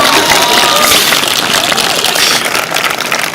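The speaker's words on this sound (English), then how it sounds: "Clap it up." A graduation audience claps and cheers in a dense, loud, continuous wash of sound, with a constant roar throughout and no quiet gaps.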